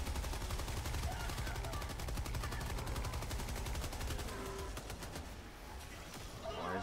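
Gunfire in Helldivers 2, a sustained, rapid automatic stream of shots that stays loud and steady for several seconds, then thins toward the end, with no talk over it.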